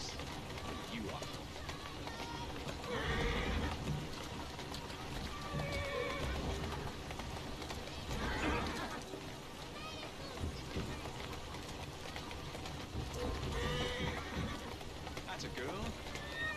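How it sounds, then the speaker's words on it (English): Horse in Assassin's Creed Syndicate neighing and whinnying several times with clip-clopping hooves, the game's horse sounds loud and close, while a voice talks over them. "Who's a good horse? You are."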